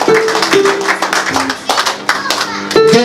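A congregation at a church thanksgiving service claps in quick bursts, sharp hand claps sounding over music and a voice, loud and close throughout the short stretch.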